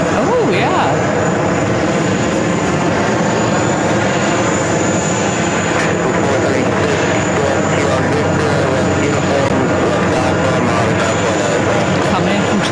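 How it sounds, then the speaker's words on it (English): An American Airlines A321 airliner arriving at JFK, a loud, steady engine roar with a low rumble and high whine running throughout, with voices talking over it. "Coming in from JFK, American Airlines, A321"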